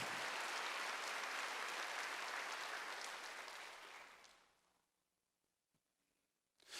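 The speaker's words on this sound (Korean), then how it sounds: "박수" A church congregation at a Wednesday worship service claps in a dense, steady round of applause that fades out over about a second, leaving near silence before a faint sound at the end.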